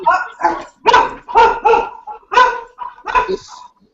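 A dog barks loudly and close by in a quick run of about eight sharp barks with short gaps between them, with no other sound in the background.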